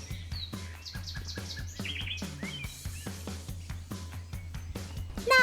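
Weaver birds (tampuo) chirp in a steady chorus of rapid, overlapping calls and short tweets, close and fairly loud, over a low continuous hum throughout.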